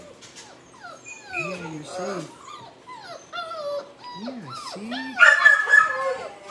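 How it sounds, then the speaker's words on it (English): Noisy dogs at an animal shelter intake whimper and yip close by, with rising and falling whines throughout and a louder cluster of yips near the end, while a person talks soothingly over them. "Lots of noisy dogs."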